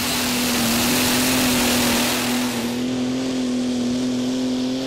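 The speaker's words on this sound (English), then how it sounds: "It's a Case Magnum MX285. Slipping the clutch and away he goes." A Case Magnum MX285 tractor at a pro stock tractor pulling event roars loudly as it pulls away, its diesel engine holding a strong steady drone that eases slightly partway through.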